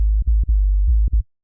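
Deep UK bass synth patch from Serum 2 with soft clipping, a heavy low sub tone pulsing in short legato notes with brief gaps, loud and alone before cutting off.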